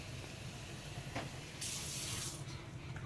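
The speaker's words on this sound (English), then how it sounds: "I'm going to add just a tiny bit more water in here." A splash of water is poured into a hot pan of brown gravy with beef cubed steak, making a brief hissing, sizzling burst over a steady low simmer.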